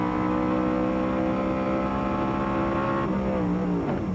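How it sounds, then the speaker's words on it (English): Vintage race cars at the Lime Rock Vintage Festival, an IMSA GT, Trans Am and NASCAR group, led by a 5-liter Ford V8 on the straightaway. A loud, sustained, close engine roar whose pitch drops sharply near the end. "Let's see if this big 5-liter Ford V8 can make up some ground on the straightaway, or perhaps under the brakes."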